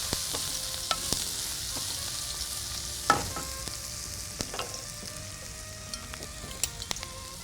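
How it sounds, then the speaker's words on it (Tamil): Chopped onions sautéing in oil with curry leaves, a soft steady sizzle under occasional light clicks and taps of a spoon against the pan, fairly quiet and close. "இந்த வெங்காயம் வதங்கும் போது உப்பு"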